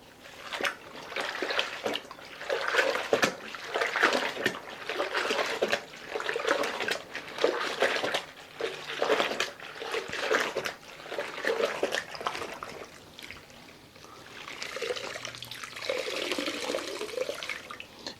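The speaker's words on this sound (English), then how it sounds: "the mop is rinsed out in the pine solution" A mop sloshed and rinsed in a bucket of pine cleaner solution while mopping a floor, giving a steady run of splashing, dripping water at close range, with a brief lull partway through before the swishing resumes.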